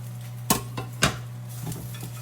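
Eggs cooking in a pan at breakfast, heard as two sharp clacks of a utensil against the pan over a steady low hum, followed by softer scraping and faint sizzle.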